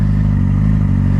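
Yamaha R6 motorcycle engine idling steadily after a rebuild and valve adjustment, a loud, close, even low rumble with no talk.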